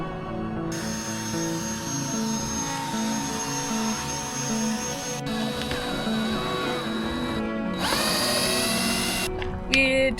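A cordless power drill whines steadily and close as it drives the last screws into wood, its motor pitch shifting as each screw seats, with a brief higher-pitched burst near the end.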